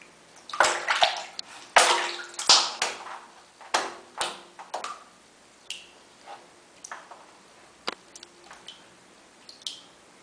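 Water splashing and sloshing in a bathtub in short, irregular bursts, with sharper splashes early that thin out into scattered drips and small splashes, close and fairly quiet.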